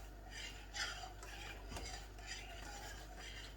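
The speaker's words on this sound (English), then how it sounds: "We just want to keep stirring it for a few seconds here, a few minutes." A spoon stirring thick chocolate pie filling in a pot on the stove, repeated rasping scrapes against the pan in slow rhythmic strokes, quiet and close, with a brief knock midway.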